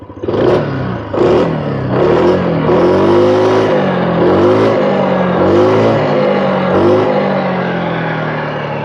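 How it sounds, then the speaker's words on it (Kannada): A Hero Xoom 160cc scooter engine idles and blips its throttle in several short bursts, the exhaust note rising and falling steadily, close and loud throughout. "ಇದರ ಎಕ್ಸಾಸ್ಟ್ ನೋಟ್ ಕೇಳಿಸ್ಕೊಳ್ಳಿ"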